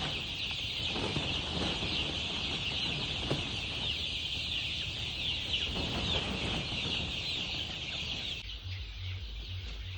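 Young chicks clucking steadily over a constant background hum, with scattered bird calls throughout and no voices.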